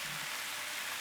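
Spinach tipped into a pan of sautéed pumpkin, giving a steady, loud hiss of sizzling oil for about a second with no talk.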